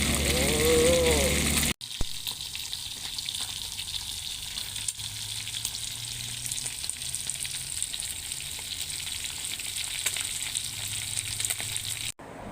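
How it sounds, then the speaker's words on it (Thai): Skipjack tuna frying in oil over a charcoal stove, with garlic and pepper: a loud, steady, close sizzle with crackling spatters of oil running throughout, with a brief voice at the very start. "เริ่มจะสุกแล้วจ้ะโอ้ยปลากระเด็น น้ำมันกระเด็น"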